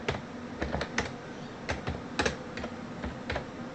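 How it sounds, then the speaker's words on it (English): A computer keyboard rattles with quick, irregular keystrokes as a command is typed, close and fairly soft, with no voices. "you type in the command code"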